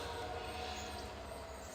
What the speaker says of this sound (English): Sounds like we have a freight train that's going to be doing